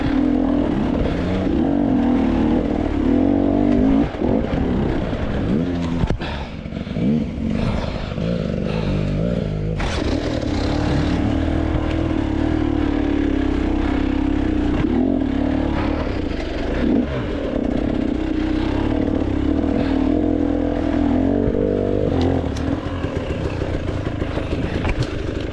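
Hard enduro motorcycle on IRC Gummy tyres grinds through narrow gulches at a race, its engine loud and close, revving up and down with clattering bumps throughout and no speech.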